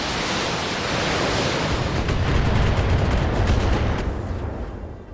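Mech weapons firing in the BattleTech video game, a dense, loud, continuous roar of blasts and rumble lasting the whole stretch, easing slightly toward the end with no voices over it.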